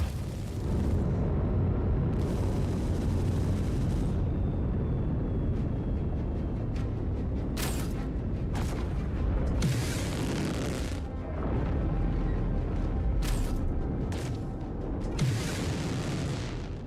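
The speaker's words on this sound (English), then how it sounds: "he's hitting us with those missiles" Missile explosions in the Star Citizen video game, heavy booming blasts and rumbling bursts that roll loudly through a dense, continuous roar, with sharp impacts recurring at irregular intervals and no talking over them.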